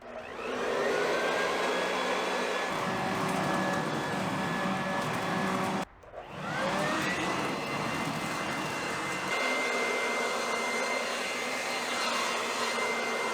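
A WORX WG512 Trivac hybrid leaf vacuum running at its faster, louder speed 2, giving a loud continuous motor whine and airy roar close by, with a brief cut near the middle before it resumes.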